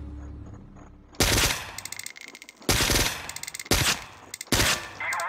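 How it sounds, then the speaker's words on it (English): Loud bursts of A-10 air-support cannon fire in the video game Weapon, four heavy roaring volleys in about five seconds, each followed by rattling, clanging impacts, with no talking. "Okay, let's get some more A10. A10 air support."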